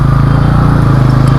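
A police car on the road with its engine running steadily close by, a continuous low motor hum holding through the whole moment with no talk over it.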